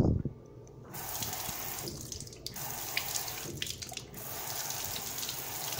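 Running water from a tap pours over an Apple iPhone 7, a near, steady splashing stream interrupted by brief breaks as the phone is moved under the flow.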